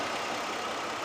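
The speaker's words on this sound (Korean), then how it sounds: "엔진 소리 한번 들려드릴게요 자 엔진 소리도 보세요" A Hyundai Genesis with about 160,000 km on it idles, its engine giving off a steady, even hum at close range with no other sounds on top.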